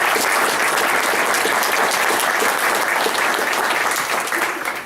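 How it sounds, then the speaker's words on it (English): A live audience at an evening education meeting applauds its three speakers, steady dense clapping filling the room without pause, loud and sustained throughout. "Let's give these speakers a big round of applause."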